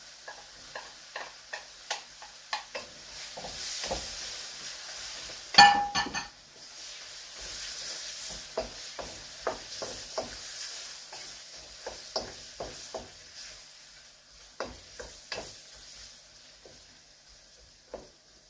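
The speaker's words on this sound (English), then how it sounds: "Then I'm gonna put in the radish." Radish and ground spices are stirred in a frying pan with coconut oil. A soft sizzle runs underneath repeated clinks and scrapes of a utensil against the pan, and one sharper clank occurs midway.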